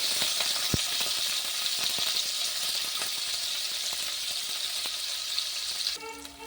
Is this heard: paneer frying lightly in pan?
yes